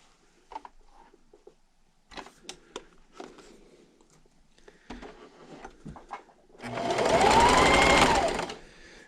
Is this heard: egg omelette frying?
no